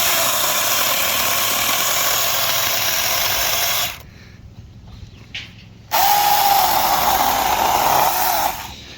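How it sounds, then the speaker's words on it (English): Small wood being cut with a chainsaw, the engine a loud steady buzz that drops away for about two seconds mid-cut before revving back up at full volume and then tapering off near the end. "like chainsaws, I'm known for using the top side of the chainsaw and cutting in just a little bit to give it some relief"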